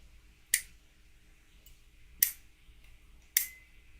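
A folding knife snapped shut three times, each closing a sharp, close metallic click followed by a brief ringing tone from the pocket clip, with quiet pauses in between.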